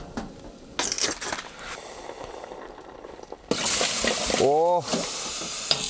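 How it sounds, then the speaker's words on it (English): Food reheated in a pot at an off-grid cabin in freezing weather: scraping stirs and a soft sizzle, then a louder steady frying hiss that swells midway, with a brief exclamation from a voice over it. "I'll just quickly reheat this for my dinner. It's already warm, but it needs to be boiling."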